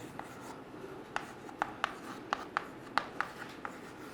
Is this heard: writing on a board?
yes